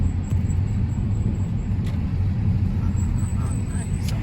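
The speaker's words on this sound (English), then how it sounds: "There's a car going through." A car drives through flood water with a low continuous rumble and wash, moderately distant, with people talking nearby.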